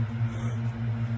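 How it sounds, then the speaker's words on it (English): Construction work nearby produces a steady, low droning hum with a faint buzzy edge, holding constant through a brief moment at moderate level in the background with no voices. "that's probably some construction nearby, that noise you hear in the background"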